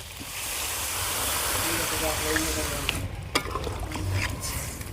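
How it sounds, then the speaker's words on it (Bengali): Potatoes and broccoli cooked in spices sizzle in a pan as water is poured in, a steady loud frying hiss with scraping stirring clicks and short splashy bursts near the end. "আলু আর ব্রোকলিটা মশলার সঙ্গে ভালো করে কষিয়ে নিয়েছি এবার দিয়ে দেবো পরিমাণ মতো জল"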